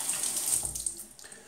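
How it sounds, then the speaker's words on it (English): Water runs from a bathroom tap into a sink and is splashed onto the face before shaving, a steady close hiss with brief splashy bursts. "let me just get some water on my face."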